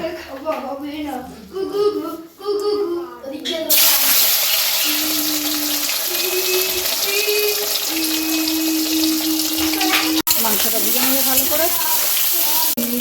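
Soy chunks (vegetarian meat) frying in oil, a loud, close sizzle that bursts in after some talk and continues steadily while a voice speaks over it, with one brief clatter near the end.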